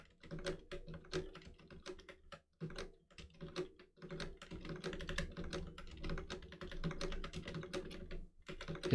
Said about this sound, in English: you can probably hear the obnoxious clicky-clacking of my keyboard now